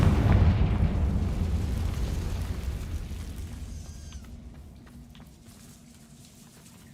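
A Confringo spell bursts in Hogwarts Legacy as a loud, deep explosive boom that rumbles and slowly fades away over several seconds, with faint magical crackles trailing off near the end.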